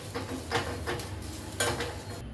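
Butter bean sundal being stirred with grated coconut and coriander, a spoon scraping and clinking against the pan in a few soft, irregular strokes, close and alone with no talking.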